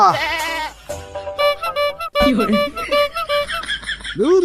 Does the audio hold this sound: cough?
no